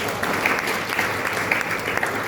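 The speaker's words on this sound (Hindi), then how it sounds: "एक बार आप अपने लिए जोरदार तालियां बजाइए" Audience applause at a patriotic education event, a steady wash of many hands clapping at even loudness for a couple of seconds.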